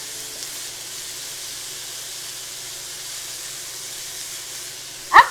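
Ground turkey browns in a pan with a steady, even sizzle and hiss throughout, ending in a brief louder clatter.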